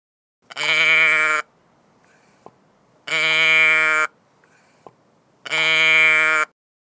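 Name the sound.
sheep bleating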